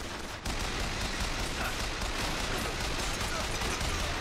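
Gunfire in Bioshock Infinite, sounding as a dense, continuous wash of shots and explosions after a brief pause, loud and steady, with a voice speaking partly beneath it.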